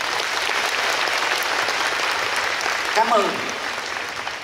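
A church congregation at a Christmas Eve children's Mass claps steadily in dense, sustained applause, fairly loud, with a voice briefly speaking over it near the end.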